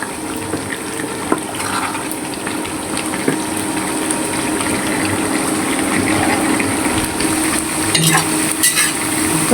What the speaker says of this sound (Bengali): মাছ ভাজা হয়েছে